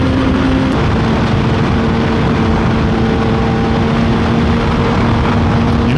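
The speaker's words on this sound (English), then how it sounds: "I would like really give it some gas to catch up to them, but I'm still getting used to this bike." A Kawasaki ZX-10R motorcycle engine drones steadily while riding, a loud, close, constant hum buried in heavy wind rush with little change in pitch.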